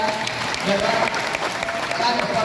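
Sustained applause from a crowd watching a Maharashtra championship wrestling bout between two wrestlers on a clay arena, a dense continuous clatter of hands at moderate level over ambient noise, with a commentator talking over it.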